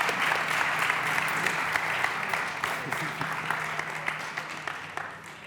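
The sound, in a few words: audience applause for conference panelists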